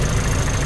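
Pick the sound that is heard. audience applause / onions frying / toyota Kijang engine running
toyota Kijang engine running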